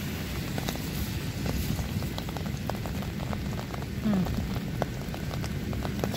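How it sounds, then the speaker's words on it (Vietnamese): Rain falls steadily in a forest, a dense close patter of drops with sharper ticks from individual drops striking nearby surfaces throughout. "Trời mưa đấy. Mình xui ghê, mấy hôm nay là gặp trời mưa không à."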